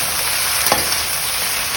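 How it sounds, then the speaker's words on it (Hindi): Vegetables being tempered in hot oil give a loud, close, steady sizzle, with a brief louder burst partway through as they hit the pan. "सब्ज़ी छौंक दी मैंने, सब्ज़ी में तड़का लगाया"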